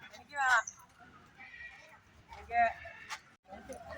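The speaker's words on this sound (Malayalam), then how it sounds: "നല്ല വെള്ളക്കുതിര" A white horse whinnies twice in an outdoor temple ground where horse rides are offered, the neighs loud and close, with people talking nearby.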